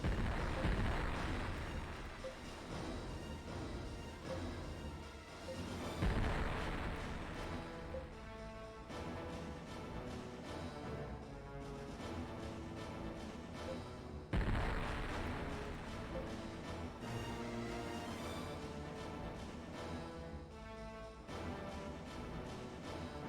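Ship guns firing on an enemy fleet in the space game Infinite Space, heavy booming volleys with two strong blasts several seconds apart under a continuous layered soundtrack-like bed.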